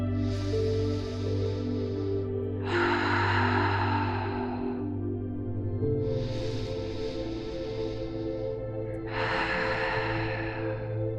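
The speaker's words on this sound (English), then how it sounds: "let's take 3 deep breaths in together. in through the nose and out through the mouth" Slow, deep breathing in through the nose and out through the mouth during a calming somatic exercise: four long airy breaths, evenly spaced, close and fairly quiet over a steady low hum.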